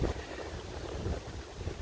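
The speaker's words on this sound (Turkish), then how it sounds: "Baya rüzgar var." Strong wind buffets the microphone in a steady low roar, with gusty swells throughout and no voices.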